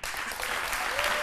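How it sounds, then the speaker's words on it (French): Studio audience at an Ivorian midday television variety show on RTI 1 applauds steadily, a dense, even wash of clapping that stays loud throughout the short stretch, with faint voices mixed in. "Monsieur Mambo Augustin, que je vous demande d'applaudir très fort"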